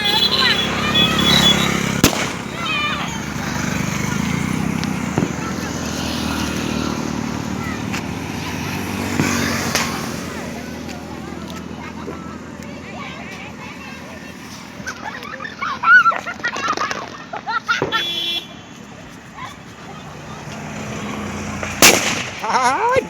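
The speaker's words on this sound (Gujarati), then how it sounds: "જબરજસ્ત અવાજ થાય છે ભાઈ જબરજસ્ત આપણા ટેટામાં" Diwali firecrackers burst in sharp scattered bangs, some near and loud, others distant, amid crowd noise and people talking throughout.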